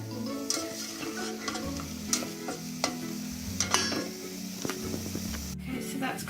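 Corn mince cooks in a pan with a soft, steady sizzle, broken by scraping and stirring strokes and light clinks of a utensil against the pan, close by and without speech.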